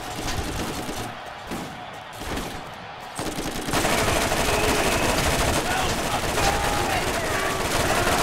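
Rapid SMG fire in the PC game Borderlands remaster, sporadic bursts at first that turn into a sustained, loud stream of automatic shots through the second half.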